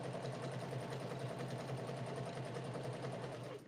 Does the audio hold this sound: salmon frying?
no